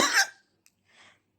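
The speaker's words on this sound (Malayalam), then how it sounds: "ചുമ മാറിയിട്ടില്ല കേട്ടോ." One sharp, close cough bursts out at the start, followed by a brief click and then a softer, fainter breathy sound before quiet returns.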